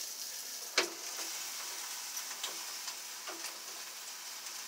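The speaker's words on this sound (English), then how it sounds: "Cooking sausage links on the grill" Sausage links sizzle on a patio grill with a soft, steady frying hiss, a sharp tick near the start and a few faint pops and crackles scattered through, no voices.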